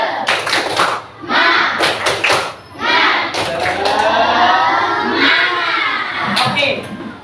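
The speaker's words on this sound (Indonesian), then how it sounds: "Oke, sama-sama tepuk semangat." A classroom group claps out a rhythmic spirit clap, sharp clustered claps in bursts, with voices chanting along between the claps.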